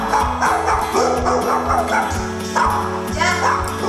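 Agitated dogs bark, yip and whimper at night near a tent pitched in a guarded classroom in Colombia, loud and close, in a dense repeated chorus.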